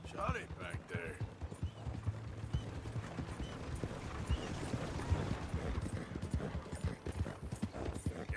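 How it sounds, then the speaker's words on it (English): Horse hooves clip-clop steadily while riding in Red Dead Redemption 2, a continuous close gait over game ambience, with a brief whinny-like sound near the start and a voice talking over parts of it. "I love riding horses in this game."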